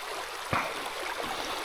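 A trout stream flows with a continuous, moderately faint rushing wash, and one brief splash or knock stands out early.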